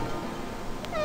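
A cat meows within Pokemon Stadium 2 gameplay, a short rising meow near the end of a brief stretch of dense game sound.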